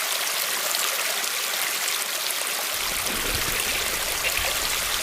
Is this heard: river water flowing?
yes